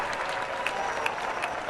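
Baseball fans applauding in a ballpark during an Oakland at Milwaukee spring game, a dense, steady wash of distant clapping with a few sharper claps standing out.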